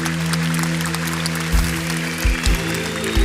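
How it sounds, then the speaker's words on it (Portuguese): A church congregation applauds during a worship service, a steady wash of clapping over a low hum, with a few heavier thumps later on. "Você pode aplaudir Jesus?"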